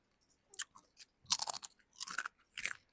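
Moringa chips crunched while eating, with several close, crisp bites and chews in quick succession, with no talk over them.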